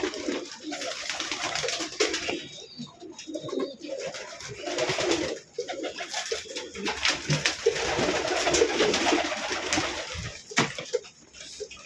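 Pigeons coo repeatedly in low, throaty rolling calls, several birds close by and overlapping, with other bird chatter and occasional splashing of water mixed in.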